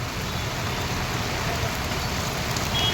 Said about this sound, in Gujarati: અંધરાધાર વરસાદ વરસે છે